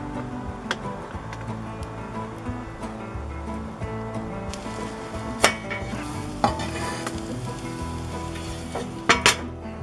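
Home fries sizzle in a cast iron skillet, going into a wood-fired oven, with a continuous close frying crackle and a few sharp metallic knocks and scrapes, no voices.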